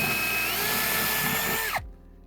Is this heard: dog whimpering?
no